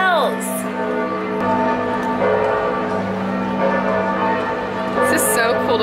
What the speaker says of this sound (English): The noon bells.